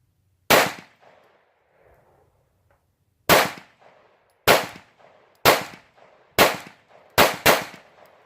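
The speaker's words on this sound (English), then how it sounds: "let's shoot these stingers and see what happens" Walther P22 pistol firing CCI Stinger rounds outdoors: sharp, loud cracks, one early shot then after a pause five more in an uneven series, the last two close together, each with a brief echo and no talk between.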